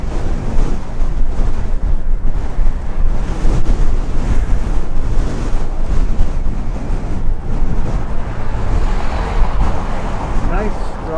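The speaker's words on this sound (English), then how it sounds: "Nice, strong headwind." Strong headwind buffets the microphone in a steady, loud roar with low rumbling gusts, a continuous blustery wash that never lets up across the whole stretch, recorded outdoors while out on a drive to take a car in for service.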